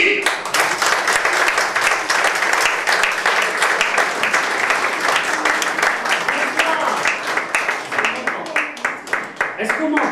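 A theatre audience claps loudly and continuously for a comedian taking the stage, dense overlapping hand claps filling the whole stretch, with a few individual claps standing out toward the end.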